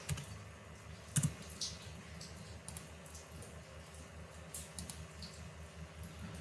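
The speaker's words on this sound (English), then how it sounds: "For that I am typing keys again." Quiet keystrokes on a computer keyboard while writing Python code, scattered light clicks with one sharper tap early on and a short cluster later, close and faint, with nobody speaking.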